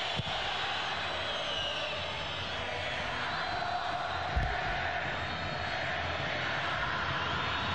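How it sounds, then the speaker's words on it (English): A football stadium crowd at the Argentina vs Venezuela 2014 World Cup qualifier, with a dense, steady roar of many fans that holds at an even level throughout and swells in places. "Fans making some noise."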